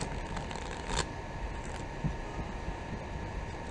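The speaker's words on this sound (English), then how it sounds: "I'm gonna shuffle twice." Soft riffling of cards being shuffled, a quiet papery whir with a couple of light taps, no voices.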